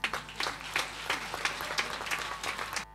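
Applause from a crowd at a diocesan jubilee celebration, a steady burst of many hands clapping for about three seconds, then cutting off.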